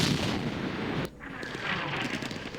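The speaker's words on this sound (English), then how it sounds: "Right now, obviously, their arty is missing us almost completely" Artillery fire in the wargame Campaign Series Middle East, set in the Second Arab-Israeli War: a loud booming blast that cuts off abruptly, followed by a lower, continuing rumble.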